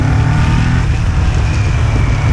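Kawasaki Ninja 400 motorcycle engine running loud and close, a steady low droning rumble with no talk over it.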